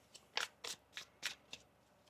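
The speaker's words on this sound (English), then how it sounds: "One more shuffle here." A deck of tarot cards is shuffled by hand, giving about six quick, crisp riffling bursts in close succession, near and fairly quiet.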